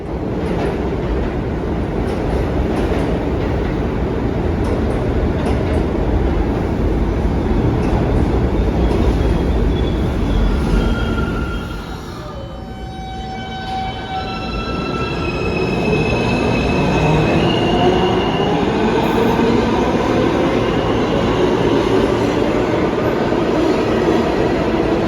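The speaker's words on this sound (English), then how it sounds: "enjoying the variety of trains that passed by as I waited" New York subway trains pass on the A line, a loud continuous rumble of railcars with wheel squeal, briefly dipping midway before another train roars through.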